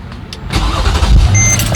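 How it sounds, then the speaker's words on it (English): A 2009 Mercedes-Benz GL 450 SUV engine cranks briefly and catches, settling into a loud steady idle close by, with a faint chime tone after it starts. "I'm going to start the car"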